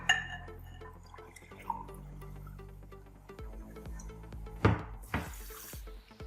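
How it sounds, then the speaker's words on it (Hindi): Water is poured from a glass into a pot of sugar for syrup, with soft splashing and dripping, brief trickles and a fuller splash near the end, close and fairly quiet. "और 2 गिलास पानी डालना है।"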